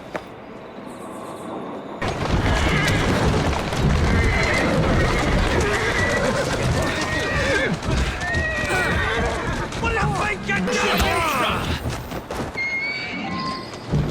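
A horse pulling a cart in the video game Assassin's Creed Syndicate, with loud neighs and whinnies over steady clip-clopping hooves and rumbling wheels, close and continuous, mixed with voices talking.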